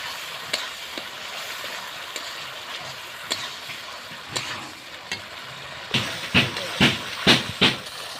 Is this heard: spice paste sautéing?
yes